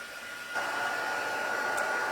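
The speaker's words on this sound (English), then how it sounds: "Just let me hit it with the heat gun just for a second" A steady blowing roar of a heat gun used in papercraft tag-making switches on abruptly and keeps running, loud and close, with no talking.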